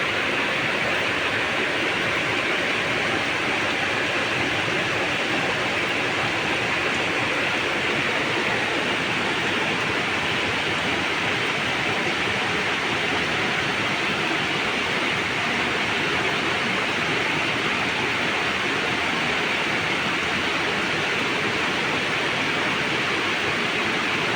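Rain pours steadily on a mountainside, a dense, unbroken hiss of falling water that stays loud and even throughout, with no voices.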